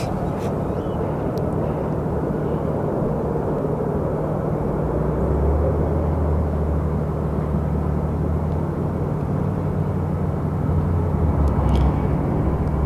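A jet airliner departing on a flight to LAX from Phoenix Sky Harbor roars steadily from a distance, a continuous broadband engine rumble with a low drone that swells slightly midway.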